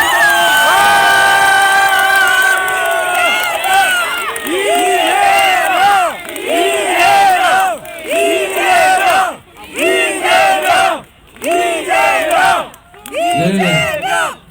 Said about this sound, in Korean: 환영의 큰 박수 부탁드립니다.